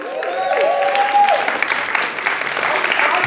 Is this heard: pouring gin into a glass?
no